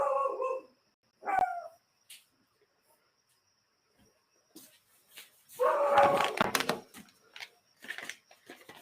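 Dogs at home bark at an arriving delivery in a few scattered bursts, some sharp and isolated, then a louder cluster of barks near the end, separated by quiet gaps.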